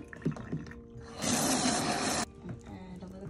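Water pours into a hair-wash applicator bottle in a short, loud burst of about a second, with faint handling sounds before and after.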